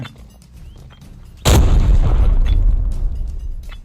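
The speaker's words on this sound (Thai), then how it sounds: "ปาระเบิดมา" A sudden loud grenade blast in the video game Arena Breakout erupts partway through, followed by a heavy, rumbling low-frequency decay that lingers for a couple of seconds.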